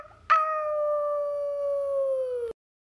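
A single dog howls in one long, steady, wavering note that ends abruptly, close and loud, with no talking.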